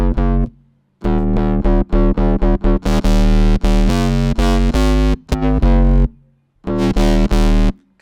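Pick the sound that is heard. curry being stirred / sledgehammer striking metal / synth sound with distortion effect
synth sound with distortion effect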